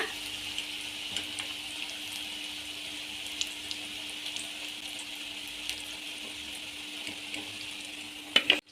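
Bajji fritters fry crisp in a pan of hot oil, a steady soft bubbling sizzle with faint pops throughout, ending in a couple of louder clatters near the close.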